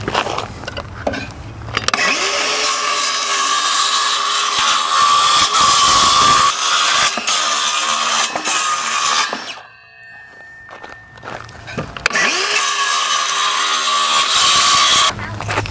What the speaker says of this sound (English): I'm just going to go ahead and cut out the slats without having to remove any of the nails